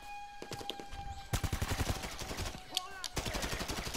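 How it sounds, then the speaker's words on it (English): Rapid bursts of automatic gunfire in the video game Grand Theft Auto V during the Cayo Perico Heist finale, dense and crackling with brief gaps between volleys, some shots close and loud. "Who the hell's shooting me?"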